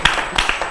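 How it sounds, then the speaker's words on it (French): Studio audience clapping during a women's entrepreneurship TV special, a burst of scattered hand claps over less than a second, close and fairly loud. "On peut quand même applaudir pour l'entreprise."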